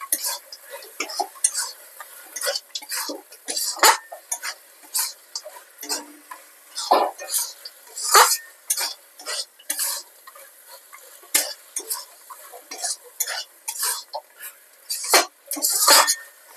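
Carrot halwa with fried cashews being stirred in a pan: steady scraping and clinking of a spoon against the metal with a soft sizzle underneath, close and continuous, with no talking.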